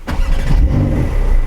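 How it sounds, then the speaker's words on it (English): A Porsche 992 Carrera 2S sports car engine turns over and catches, settling into a loud, close, low rumbling idle. "So if I just fire the car up,"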